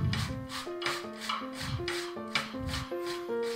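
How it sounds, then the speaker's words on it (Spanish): Apple grated by hand into pulp for an autumn caramel apple cake makes a rhythmic rasping, close and steady, with about eight strokes, and soft background music sounds underneath. "voy a coger otra manzana que acabo de trocear y la rallo también"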